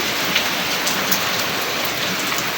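Heavy rain pours down in a steady, dense wash of noise with scattered louder drops striking a surface, constant throughout with no voices.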